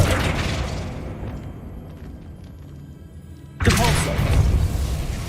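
A Flipendo spell cast in the Hogwarts Legacy video game lands as one sudden, loud magical burst with a booming thump that breaks through quieter ambient game sound and keeps ringing briefly afterward.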